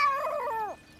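A cartoon cat lets out a single drawn-out yowl lasting about a second, close and fairly loud with a falling end, heard on its own with no talking.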